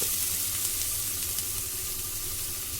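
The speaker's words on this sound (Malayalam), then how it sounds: "ഒരല്പം വെള്ളം ഒഴിച്ചു കൊടുക്കുക." Loud, steady sizzling close up as water hits a hot pan while making a raw banana and prawn curry, a dense crackling hiss that continues without a break.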